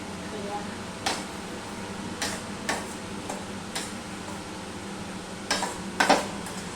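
Grated coconut frying in a pan with chillies, a low steady sizzle under a series of sharp spatula taps and scrapes, several clustered near the end, close by with no talk.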